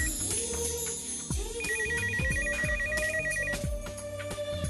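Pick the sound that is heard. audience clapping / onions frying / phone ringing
phone ringing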